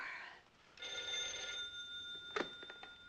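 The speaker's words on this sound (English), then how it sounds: "Cochran, you want on the phone?" Old-fashioned telephone bell rings in a police office scene of a 1959 film, one steady, near ringing burst that gives way to a clattering pickup.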